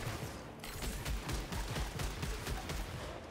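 Continuous weapon fire in the video game Returnal, a dense, unbroken stream of rapid shots and booming impacts over a loud, full mix, with no talk.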